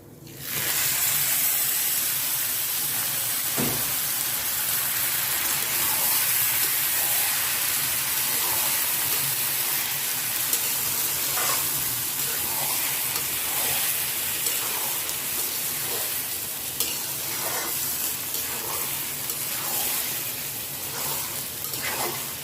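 Beef tipped into a pan of fried polao rice for beef tehari, giving a steady broadband sizzle and hiss that runs loud and unbroken throughout, with occasional faint clicks and stirring ticks.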